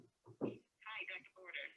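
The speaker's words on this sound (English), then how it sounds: "we're hearing someone answering a phone call" Someone picks up a phone call over an unmuted conference line, a brief greeting-like voice with telephone-band tone coming through in short bursts, moderately quiet.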